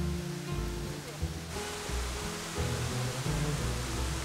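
Rinka Falls in Logarska Dolina, Slovenia, a steady broad rush of falling water, fairly faint and continuous with no talk over it.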